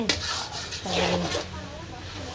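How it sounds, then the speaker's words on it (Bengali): Fish and rice with turmeric and chili are stirred in a pot during village cooking, a short, close scraping and rubbing of a utensil against the pot, with a faint sizzle beneath. "একটু ভাত দিয়ে নাড়াচাড়া দিয়ে"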